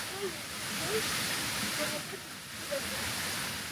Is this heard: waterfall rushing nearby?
yes